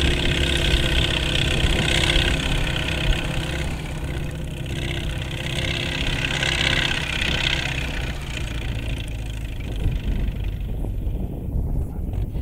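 A tractor pulls a seed drill while sowing a hayfield. Its engine holds a steady, loud idling drone for the whole stretch with no speech.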